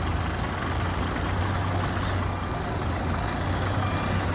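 A truck engine idles and runs steadily while the truck reverses into a parking spot, a continuous low diesel rumble and broadband hiss with no talk.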